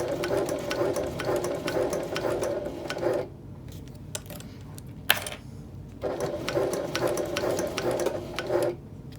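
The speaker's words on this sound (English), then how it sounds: "you sew all along the entire length" A sewing machine stitches the length of a rolled tote bag handle, running in two steady bursts with a quiet pause and a brief click between them, close and clear with no talk.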